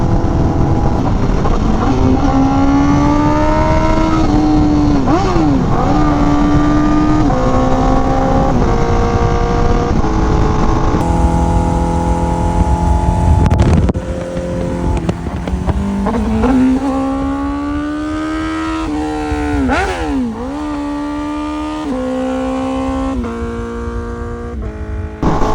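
A Honda Fireblade RRR SP motorcycle fitted with a full titanium exhaust, its engine loud and close, droning and repeatedly revving with rising and falling pitch for the whole stretch, alone with no talking.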